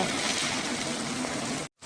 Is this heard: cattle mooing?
no